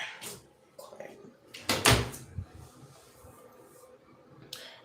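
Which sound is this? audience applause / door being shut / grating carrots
door being shut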